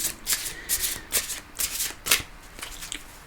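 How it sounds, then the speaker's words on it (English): A deck of tarot cards being shuffled by hand at close range, giving repeated soft riffling bursts in an uneven rhythm, each lasting a fraction of a second, with no talk. "I'm going to shuffle again."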